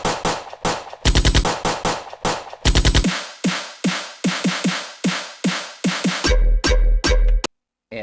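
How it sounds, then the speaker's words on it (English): Synthesized gunshot bass stabs built in Ableton without plugins, fired as loud punchy bursts in rapid rhythmic patterns, some spaced as single hits and others as fast machine-gun-like rolls, ending with a brief silence. "Okay, that's it for the gun stabs."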